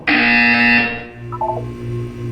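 Loud electronic buzzer from the video game Portal 2, a harsh harmonic tone sustained for about a second before cutting off, followed by a faint chirping electronic blip over a low background hum.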